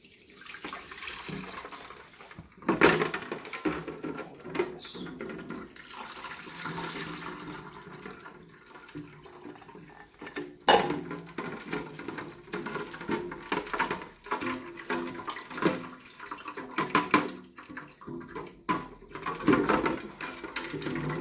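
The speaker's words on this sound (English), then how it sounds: "now I'm going to strain this in an ice water bath to cool it down" Beef stock being strained into an ice water bath in a kitchen, with splashing and pouring liquid, a few louder sloshes and clinks, and a running-water wash throughout.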